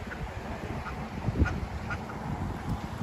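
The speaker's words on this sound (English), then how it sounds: "Check out all the ducks." Ducks quack in short scattered calls at an outdoor spot, a few fairly clear ones rising above a steady background hum, moderately distant.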